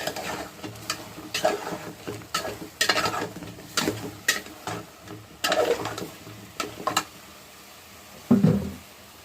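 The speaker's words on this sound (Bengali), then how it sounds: "দিয়ে দিচ্ছি নরম সবজিগুলো দিয়ে লাড়তে থাকবো" Vegetables with spices get stirred in a pan, a spoon scraping and clinking against the metal in irregular bursts with short pauses and faint sizzling underneath.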